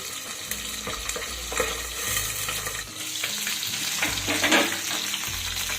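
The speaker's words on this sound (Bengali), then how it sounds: "এই পাবজা মাছ কিন্তু ভাজার সময় খুব ফাটে তাই জন্য একটু ঢাকা দিয়ে দিয়ে ভাজতে হবে" Pabda fish frying in oil in a pan with a lid partly covering it, a steady close sizzle with crackling pops and occasional stirring clatter, with no talking.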